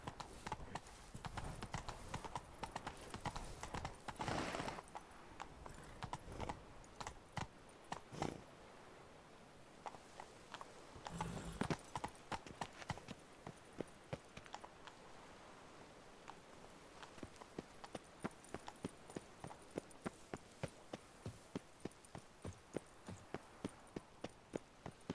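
Horse hooves in The Witcher 3: Blood and Wine clop in a steady walking rhythm, crisp and fairly close, with quieter stretches between, over a soft ambient bed with no speech.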